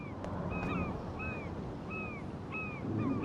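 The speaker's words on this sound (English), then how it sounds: "Another bird?" Crows cawing in the video game Life is Strange, several harsh calls repeating at a steady pace over a windy outdoor ambience, fairly faint and with no talking.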